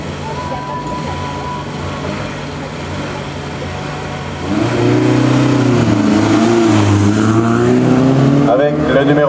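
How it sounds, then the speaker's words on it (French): A Peugeot 302 climbs a hill at a historic hill-climb event, its engine note rising and revving louder halfway through as it accelerates past. An announcer talks over the engine. "Par le numéro 121, Denis Stéphan, à bord d'une 302."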